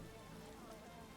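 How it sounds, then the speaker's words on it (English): A brief, soft hiss of steady rain pouring down in The Witcher video game, an even wash of noise with no distinct drops standing out. "Downpour."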